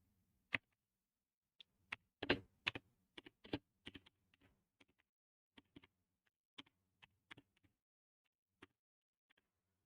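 Keystrokes on a computer keyboard as a short command is typed, irregular clicks in quick bursts then sparser taps, close and fairly quiet with no talk.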